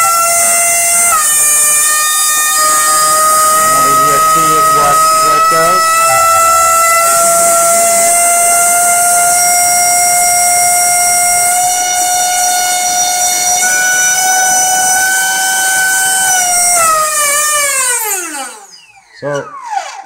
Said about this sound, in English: we were about half throttle and we got 300 grams out of this 50 millimeter diameter EDF running on a 3S 1400